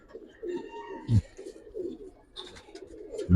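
Giribaz pigeons coo in low, throaty rolling phrases close by, several rising and falling calls repeated in a loose rhythm, with a few sharper knocks and rustles between them.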